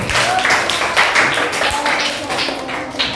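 An elementary school class in Indonesia claps for a classmate, short uneven rounds of small hands close by, mixed with children's and a teacher's voices.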